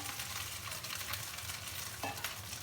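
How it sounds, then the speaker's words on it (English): Pork with lotus root stir-frying over high heat in a Chinese wok, a dense continuous sizzle with a low steady rumble and a faint clink near the end. "Stir fry quickly over high heat."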